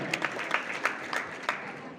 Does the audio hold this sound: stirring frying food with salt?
no